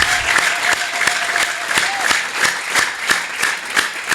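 An Ethiopian church congregation claps in unison for Jesus during a worship service, loud rhythmic beats landing about three times a second over crowd noise.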